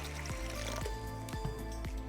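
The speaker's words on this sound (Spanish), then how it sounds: "Primero en nuestro caso vamos a poner una parte de agua" Water being poured into a bowl for rye bread dough, a close, steady liquid trickle with soft recurring sloshes, fairly quiet.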